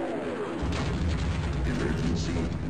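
Rumbling explosions and blasts roll through a Half-Life 1 firefight, a steady loud wash of booms and debris with no clear gaps, heavy low-end texture throughout.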